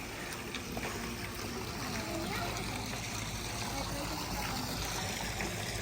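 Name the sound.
waterfall feature splashing into a hotel swimming pool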